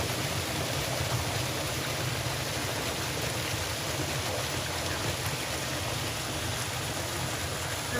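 Water pours down from a height at a Japanese temple in Hiroshima, a loud, steady broadband rush like a waterfall that fills the whole clip, with no voices.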